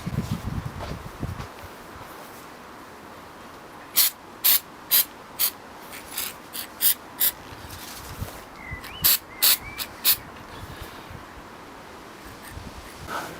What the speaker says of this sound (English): I'm going to spray the pipe with a coarse texture paint